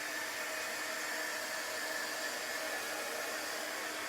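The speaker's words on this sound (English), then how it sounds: "I'm going to take the dryer to it." A hair dryer blows steadily at close range, a constant even hiss of air used to dry chalk paste on a craft surface, with no talk over it.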